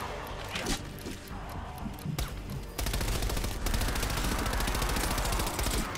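Gunfire in the video game Call of Duty: Black Ops Cold War, zombies mode, scattered shots at first, then a dense sustained burst of rapid automatic fire, loud and close, with a voice faintly underneath.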